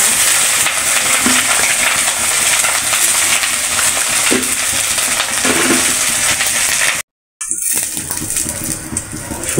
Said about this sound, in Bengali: তেলটা গরম হয়ে গেছে, এখন শুকনো মরিচ দিয়ে দেবে।